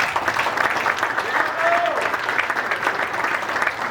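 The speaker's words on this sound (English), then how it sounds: "So give yourselves a round of applause." Audience at a baseball hall of fame induction ceremony applauds in a steady, dense wash of clapping that holds for several seconds at moderate loudness.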